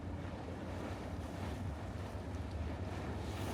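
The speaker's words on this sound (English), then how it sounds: "the engine noise is too loud and the sea breeze will blow away any microphone I own" A boat motoring across open sea off Perce Rock and Bonaventure Island, with a steady engine drone beneath heavy, constant wind buffeting the microphone and the wash of waves, no voices.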